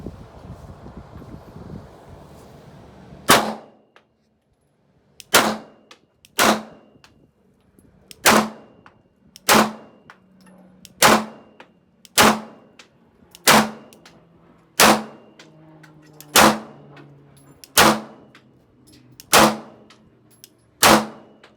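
An Archon Type B pistol is fired at targets: about a dozen loud, sharp shots, each with a short ringing decay, spaced at a fairly even pace with quiet gaps between them.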